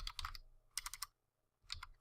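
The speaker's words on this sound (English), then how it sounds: "I'm going to type in hero confirm" Three quick bursts of keystrokes on a computer keyboard as a short game command is typed, crisp and close in a quiet room.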